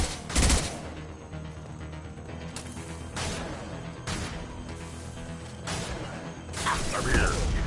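An impact shot in the Mass Effect 2 video game: several sharp, loud firing blasts spaced a second or so apart over a busy combat soundscape, with voices in the background.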